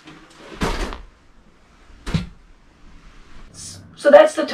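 A cabinet door under an end table in an Airstream Classic travel trailer opens and shuts with two short, close knocks a second or so apart, followed by brief voices.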